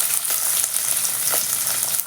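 Chopped big onion fries in hot oil in a clay pot with mustard seeds, cumin and curry leaves, a steady dense close sizzle with faint crackles, no voices.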